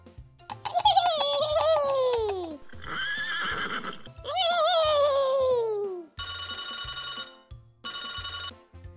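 A toy telephone rings in a doll play scene, two bursts of bright electronic ringing near the end after a run of squealing toy sounds and whinny-like noises, loud and close.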